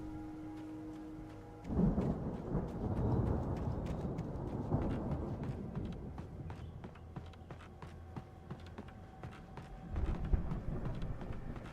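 A thunderstorm in the video game Alan Wake: a sudden rumbling crack of thunder breaks in, followed by rolling, rain-laden noise with scattered thumps and footsteps, swelling again near the end.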